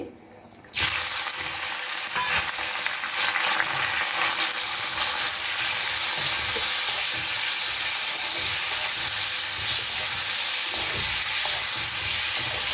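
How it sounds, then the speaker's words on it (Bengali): Shrimp seasoned with salt and turmeric hit hot oil in a pan, giving a sudden loud, steady crackling sizzle that holds strong throughout with no one speaking. "এটা গরম হয়ে গেছে, এর মধ্যে আমি চিংড়ি মাছটা ছেড়ে দিচ্ছি"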